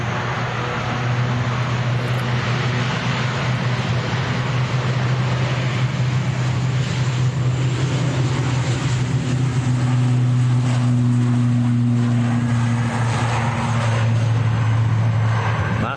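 An Aer Lingus airliner bound for Belfast at Manchester Airport, a steady loud engine roar with a sustained low drone and hiss, continuous and close, no talking.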